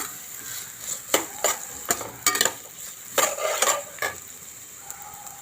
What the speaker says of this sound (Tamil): ஆனியன் வந்து நல்லா வேகணும், அது வரைக்கும் நல்லா வதக்கணும்